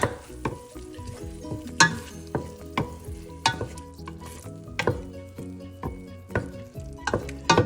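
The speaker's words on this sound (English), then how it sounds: "we're just going to stir it around and thoroughly incorporate our tomato paste and our oil" Spoon stirring tomato sauce, tomato paste and oil in a pot for an Italian-style pasta sauce, giving repeated close scraping knocks against the pot in an irregular rhythm over a soft background, no talking.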